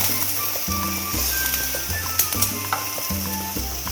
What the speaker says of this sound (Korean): 닦아주시면 이제 전복을 올리시면 됩니다.